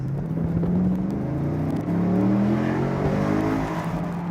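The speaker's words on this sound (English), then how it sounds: "But it just has a nice high-speed rumble to it." A 2014 Chevrolet Camaro Z28 with its 427 V8 gives a loud, steady engine rumble at speed, a deep droning tone with shifting pitch heard from inside the car, with no talk.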